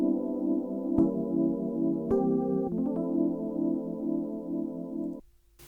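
Keys playing sustained chords for an 80's R&B sample, with chord changes that include two passing chords, held smoothly and alone, ending in a brief quiet tail.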